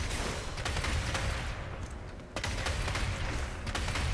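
Rapid crackling bursts of fireworks in DmC: Devil May Cry, dense and continuous, with sharp pops repeating throughout and a brief dip midway.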